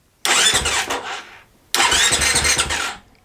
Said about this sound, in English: when I just tap the button and it cranks over a little bit